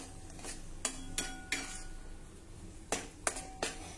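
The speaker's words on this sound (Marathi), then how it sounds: "आता हे मसाले देखील 1-2 मिनिटांसाठी आपण छान परतून घेऊया" Spices being stirred and sautéed in a pan for a dried pea usal, with several sharp clinks of a spoon against the pan over a soft, steady sizzle, close and fairly quiet.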